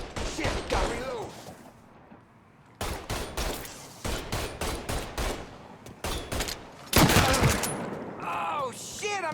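Gunfire in a Mafia 3 shootout: bursts of rapid, loud shots in clusters, with a pause between volleys, while a voice talks over the action.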